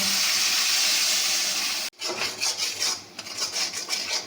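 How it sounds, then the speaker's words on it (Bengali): Masala spices with turmeric, chilli powder and salt cook with a little water in a pan, giving a loud, steady hiss that cuts off abruptly, followed by spatula clinks and scrapes against the metal; close, no talk. "সামান্য একটু জল দিয়ে মশলাটা কষিয়ে নেব"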